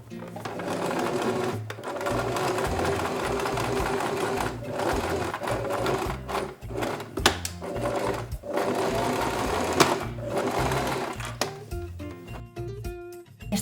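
A sewing machine stitches fabric for the pointed hat of a wizard costume, running in long loud bursts close by, with short pauses and stops between runs and a rapid mechanical whir throughout.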